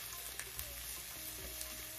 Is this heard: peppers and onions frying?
yes